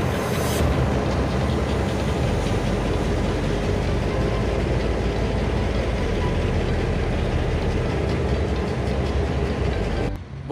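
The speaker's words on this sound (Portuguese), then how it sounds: "lá na frente que passa o trem, ó, que vai na linha turística Morretes" A tourist train on the Morretes line in Curitiba rumbles past steadily, a loud continuous rolling roar that fills the whole stretch and cuts off abruptly at the end.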